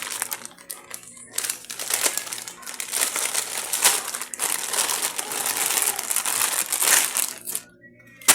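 Crinkling and crushing plastic packaging as a pair of INGCO work gloves is opened, a dense, close, continuous rustle running nearly throughout, dropping off briefly near the end.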